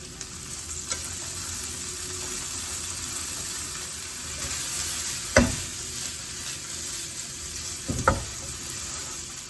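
Onion and ham frying in a pan still greasy from seared scallops, giving a steady broadband sizzle throughout with two brief sharp stirring scrapes partway through.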